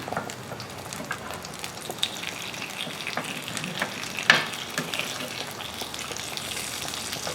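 Small paneer sandwiches sizzle in a grill pan after being flipped. The frying hiss is steady and close, with a single brief clatter partway through.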